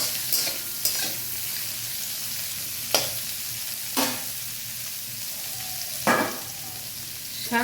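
Bottle gourd greens stir-fried in a pan, a steady sizzle broken by several sharp scraping strokes of the spatula spaced a second or two apart, close and clear with no talking.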